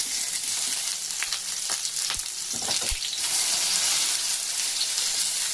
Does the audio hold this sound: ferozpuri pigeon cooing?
no